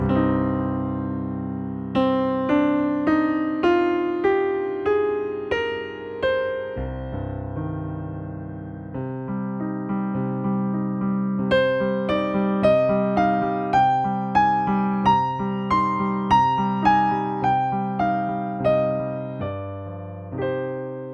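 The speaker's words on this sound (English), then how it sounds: "So I'll just play that again without saying anything so you can hear the sound of the Aeolian minor scale." An Aeolian minor scale is played note by note, first climbing steadily, then moving on through a longer run of sustained plucked tones, each note ringing into the next, close and clean with no speech over it.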